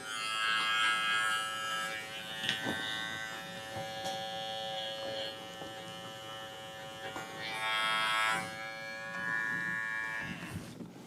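Electric clippers trim a poodle's feet with a continuous close, steady buzzing hum that shifts slightly in pitch as the blades move through the fur, with no talking.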